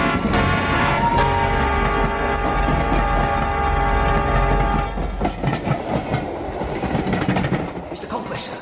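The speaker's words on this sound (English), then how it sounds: "Come on, the train's coming." Radio-drama sound effect of an approaching train, a loud sustained horn and heavy rolling rumble that gives way to rhythmic clattering wheels as it passes close by.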